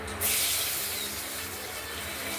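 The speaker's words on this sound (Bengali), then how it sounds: "এবার ফোড়ন দিয়ে দিলাম," Spices tempered in hot oil for a rohu fish curry with potato and green banana set up a loud, steady hiss and sizzle that starts abruptly and carries on without a break.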